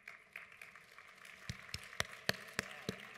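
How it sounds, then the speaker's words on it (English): A single person claps at a home visiting talk, sharp, close, distinct claps in an uneven rhythm, sparse at first and then quicker and louder, with no talking. "my clapping's very loud"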